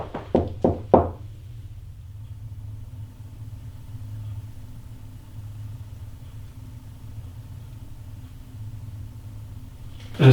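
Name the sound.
knocking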